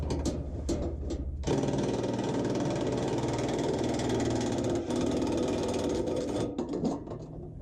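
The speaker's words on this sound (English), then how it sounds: "I'm just using my impact driver" An impact driver rattles and whirs loudly in sustained bursts while removing the skid plate bolts from a Ford F-150 during an oil change, with short hammering buzzes before and after one long continuous run.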